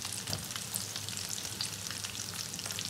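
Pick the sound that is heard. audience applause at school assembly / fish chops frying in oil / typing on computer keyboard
fish chops frying in oil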